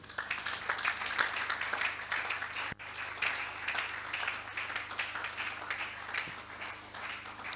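A congregation at a church Christmas service bursts into sustained, dense applause, many hands clapping together with a low steady hum beneath, with one brief dip partway through.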